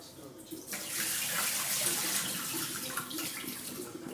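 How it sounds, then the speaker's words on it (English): Tap water runs steadily into a sink as food is rinsed under it, a continuous close splashing hiss that begins after a brief quiet moment and carries on to the end. "I'm going to rinse these off a little bit more."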